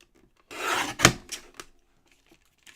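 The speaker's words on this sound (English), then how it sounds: "So I'm going to cut this to 4 inches." Paper trimmer or blade slicing through a recycled greeting card, trimming it down to 4 inches: a short burst of rasping, scraping cuts at close range, ending in a few brief sharp strokes, with no talk.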